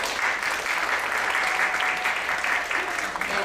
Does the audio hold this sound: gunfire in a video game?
no